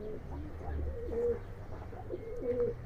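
Soft, repeated coos from racing pigeons in a loft, in a steady rhythm, close by, over a low background hum.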